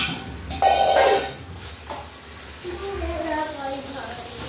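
Bowls and mixer parts being washed by hand in a home kitchen, with clinking dishware, a brief rush of running water and faint clatter under a person talking.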